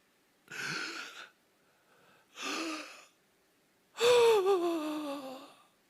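A person demonstrating the labored breathing of crucifixion: three loud, strained gasps, the last long and drawn out with a voiced groan, separated by brief silences.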